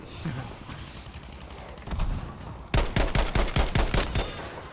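Rapid bursts of rifle and automatic gunfire in Battlefield V, loud and close, starting with a few scattered shots and building into a dense volley over the last two seconds amid battlefield noise.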